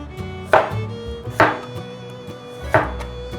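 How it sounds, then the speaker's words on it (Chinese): Three crisp knife strikes through cucumber onto a cutting board, spaced about a second apart, each a sharp close tap with a short crunch, with no talking. "把小黄瓜斜切薄片"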